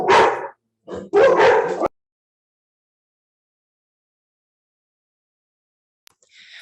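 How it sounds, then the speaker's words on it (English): Dogs outdoors in a natural setting give a few close, sharp barks and whimpering yips in quick bursts at the start, then fall silent, with a faint sound returning at the very end. "My dogs have joined me today"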